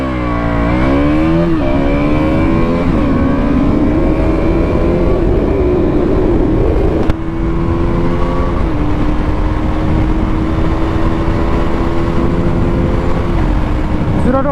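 A KTM Duke motorcycle accelerates hard from a launch in a 0 to 100 run, its engine note climbing through the gears with brief shift dips, loud and steady over wind rush.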